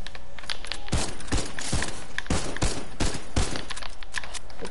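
Video game gunfire: a rapid string of loud, evenly spaced shots cracking close by over a constant background hiss.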